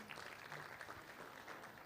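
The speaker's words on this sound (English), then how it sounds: "A round of applause, ladies and gentlemen." Faint, steady applause from an audience at an MTN Uganda event, heard from a distance with no voices on top.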